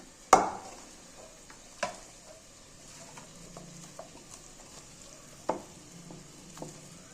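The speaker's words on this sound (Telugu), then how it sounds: "ఇలా ఒకసారి బాగా కారం పట్టేనట్టు బాగా కలుపుకోవాలండి" Chili powder and salt are mixed by hand in a bowl for a fish curry, making soft squelching and rustling broken by a few sharp knocks against the bowl, close and quiet with no talking.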